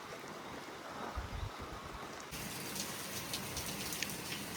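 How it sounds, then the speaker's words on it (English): Steady rain falls on a farm in Ghana under dark clouds, a dense continuous hiss that grows louder and brighter partway through, with no talk. "look at the rain"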